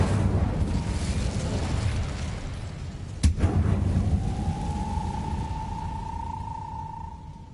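The Incendio fire spell in the Hogwarts Legacy video game: a single sharp crack cuts through a steady rumbling roar, followed by a rising, sustained whine that lingers to the end.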